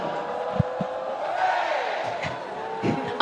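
Men's Roller Derby World Cup stadium crowd roaring steadily in a big indoor arena, a continuous wash of cheering with a few sharper shouts on top.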